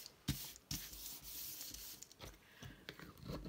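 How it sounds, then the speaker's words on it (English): A bone folder burnishes paper down onto a window envelope, giving faint, close rubbing strokes in short, irregular passes with brief pauses. "burnish it down with this, my bone folder"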